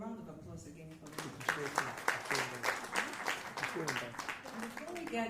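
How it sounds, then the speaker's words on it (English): Clapping applause from a crowd, steady and moderately loud, with voices talking and calling out over it. "Can we just a round of applause again for them?"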